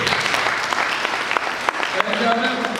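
An audience applauds during a speech by the national president of a traditional medicine federation, a moderate wash of clapping with a voice speaking over it.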